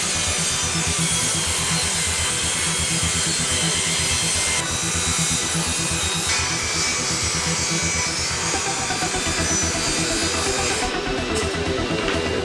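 A table saw cutting wood at 45 degrees for a DIY studio corner bass trap: a loud, close, continuous grinding cut that holds steady from start to end with no speech.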